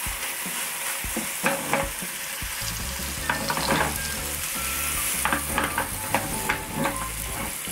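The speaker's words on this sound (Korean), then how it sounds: "이제 팬에 조심히" A large handmade tteokgalbi beef patty sizzles loudly in a hot frying pan, a steady crackling hiss with scattered sharper pops and the scrape of utensils across the pan, and no voices.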